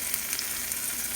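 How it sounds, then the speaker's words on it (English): Torrijas, bread slices soaked and pan fried in oil until golden, give a steady close hiss of bubbling fat with fine crackles, continuous and unbroken, with no voices. "really pan fry them till they're golden on both sides"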